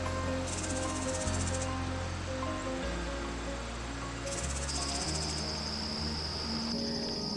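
Insects in a wildflower field at a wildlife preserve, heard as layered, steady, high-pitched chirping and buzzing that goes on without a break, with a shifting low drone beneath and no talk.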